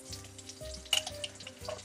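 Pork frying in a cauldron over a well-heated fire, a soft, steady sizzle with a brief sharper crackle partway through, heard close.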